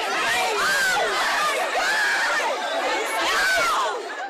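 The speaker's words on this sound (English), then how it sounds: "Look at this crush of shoppers in a Chattanooga Victoria's Secret pink store." Black Friday shoppers crush into a Victoria's Secret Pink store in Chattanooga, a dense roar of crowd chatter with scattered shouts and excited voices swelling and easing throughout.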